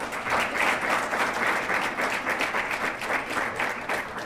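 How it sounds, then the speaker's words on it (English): A large audience at a charity fundraiser for Afghan orphans applauds warmly, dense clapping filling the room steadily without pause. "Please give them a big round of applause."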